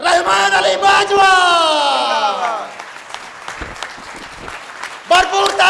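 An audience applauds at a teachers' union oath-taking ceremony in Sahiwal, Punjab, with steady clapping under a loud amplified voice calling out over a PA system.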